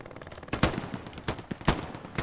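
Machine gun fire in the video game Hell Let Loose, heard as several short, sharp bursts spaced irregularly, fairly close and loud over a low background rumble.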